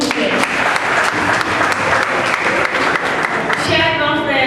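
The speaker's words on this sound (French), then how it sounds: "Applaudissez s'il vous plaît." Sustained applause from a crowd at a doctoral thesis defense, dense and steady clapping throughout, fairly loud and close.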